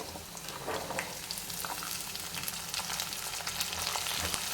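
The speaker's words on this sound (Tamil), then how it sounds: "சேர்த்து இந்த எண்ணெயிலேயே அதை நல்லா வதக்கிக்கிங்க." Garlic cloves and small shallots sautéing in oil, a continuous crackling fry dotted with sharp pops and spatters, fairly quiet and close, with no voices.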